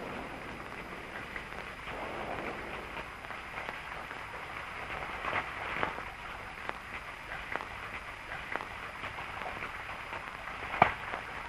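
Heavy rain falling outside as a steady, dense hiss, with occasional louder patters and a sharp crack near the end, no voices.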